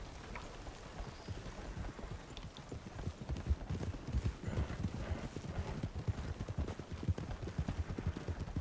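Horse hooves in Red Dead roleplay clip-clop in a steady walking rhythm, growing louder and closer partway through, with a soft rain-like patter underneath.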